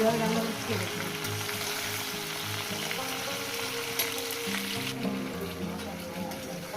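Ridge gourd and potato pieces frying in a pan, a continuous moderate sizzle with faint stirring, while a voice talks over it.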